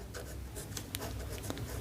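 Quiet scratching of writing on a board during a maths lesson, a handful of short strokes over a low steady background hum, with no talking.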